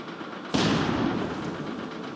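A sudden loud broadband burst from an explosion effect on a roller coaster's second lift hill in the game Planet Coaster, starting abruptly and holding as a sustained rumbling roar to the end.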